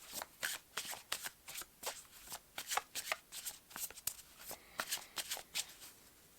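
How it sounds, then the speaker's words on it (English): Wisdom of Trees oracle cards shuffled by hand in a long run of soft, rapid riffles and slaps, quiet and close, with no voices. "So I'm gonna get another card from the Wisdom of Trees oracle here"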